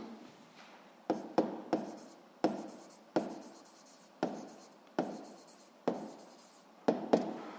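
Handwriting on a surface, close and alone, with about a dozen sharp strokes arriving in uneven bursts, each scratch quickly fading before the next, while the law of conservation of momentum is written out in a seventh-grade physics lesson.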